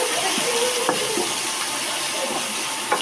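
Shrimp dropped into frying onions in a pan give a steady bright sizzle and hiss, with a few soft clinks and stirring scrapes over the continuous frying.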